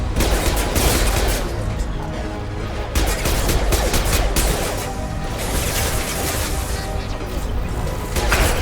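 Heavy gunfire in Mass Effect combat, dense rapid bursts of shots and crashing impacts in continuous loud volleys with brief lulls.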